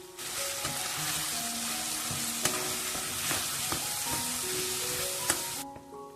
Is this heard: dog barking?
no